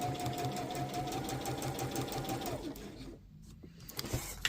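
Sewing machine worked by hand crank while stitching a zipper pouch, a close, steady mechanical chatter of the needle at an even rhythm that stops near the end, leaving only a few small clicks.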